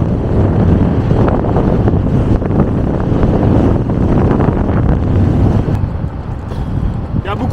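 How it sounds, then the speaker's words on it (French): Strong wind buffets the microphone during an outdoor bicycle ride, a loud continuous low roar filling the whole clip with no other sound breaking through. "Il y a beaucoup de vent."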